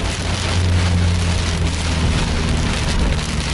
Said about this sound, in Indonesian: Deras kali hujannya ini.